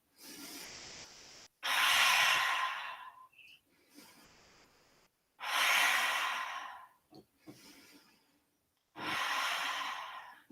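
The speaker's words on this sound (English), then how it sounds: "breathing." Slow, deep breaths during a yoga balance session, close and soft, with long airy inhales and exhales repeating in a relaxed rhythm, separated by short quiet pauses.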